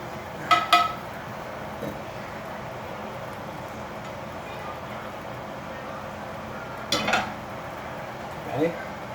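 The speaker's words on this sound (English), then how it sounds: "Might just take a little bit of stock just to get all that gravy" A utensil scrapes roast chicken gravy and stock out of a roasting pan, making a few faint, sporadic scrapes and metallic clinks over a quiet kitchen background.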